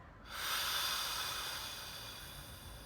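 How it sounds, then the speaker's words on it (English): One person exhales slowly through the mouth during a guided breathing exercise, a soft, airy hiss that starts abruptly, swells and then fades gently, close and quiet. "And breathing out through your mouth."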